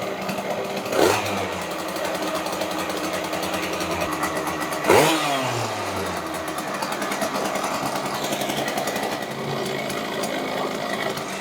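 A rebuilt Puch ZA 50 moped's aluminium three-speed engine, rated at 9.1 hp, runs loud and buzzy up close. It snaps into two sharp revs that fall away again, with no talking.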